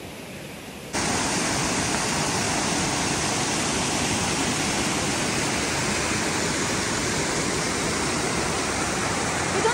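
Water rushes near a hidden waterfall on a trek in Kokan, around Sawantwadi. After a quiet first second, a loud, constant roar of flowing water fills everything and stays even throughout.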